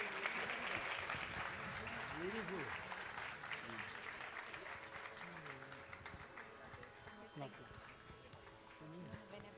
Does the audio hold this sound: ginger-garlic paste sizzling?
no